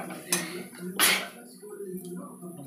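A spoon stirs chili and turmeric powder into onions in a pan for a potato dish, with a few sharp clinks and scrapes against the metal between quieter pauses.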